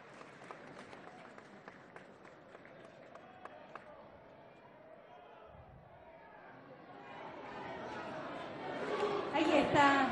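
A crowd applauding Pope Francis at a gathering with President Evo Morales in Bolivia, starting as distant murmur and chatter, then swelling into louder, closer clapping and cheering toward the end.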